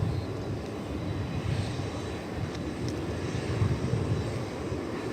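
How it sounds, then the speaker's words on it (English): An American Airlines Boeing 787-9 Dreamliner approaches to land at DFW Airport after a flight from Sao Paulo, a low, steady, distant engine rumble that swells slightly, with no talk. "American Airlines Dreamliner about to land."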